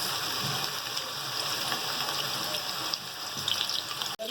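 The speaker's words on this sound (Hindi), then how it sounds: "ये हम अपने तेल के अंदर ये डाल देंगे।" Chapli kabab frying in hot oil in a pan: a steady, close sizzle that holds evenly throughout with no pauses.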